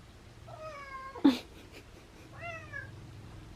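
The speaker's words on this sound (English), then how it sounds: "The cats are like, please feed me dinner." Several cats meow for their dinner indoors, two drawn-out meows with a brief thump between them, close and moderately loud against a quiet room.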